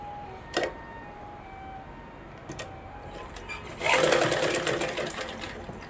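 Close sewing machine stitching along a marked line on a blouse lining, a loud whirring run in the last two seconds, preceded by a couple of sharp clicks and handling noises.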